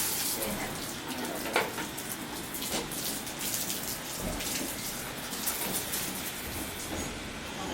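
Water rinses a wound, a steady close hiss of running and splashing water with a few brief louder splashes throughout.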